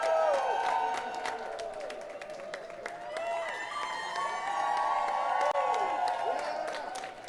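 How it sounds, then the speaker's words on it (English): Cheering crowd on the block outside the New York Stock Exchange, continuous applause, whoops and shouting that stays loud and busy throughout, with voices mixed into the din. "The crowd is absolutely fired up"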